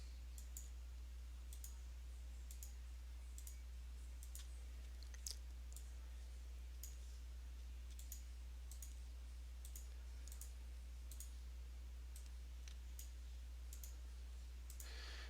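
Faint, sharp mouse clicks come at a steady, unhurried pace as switches in online donation software are toggled, heard close over a low constant hum.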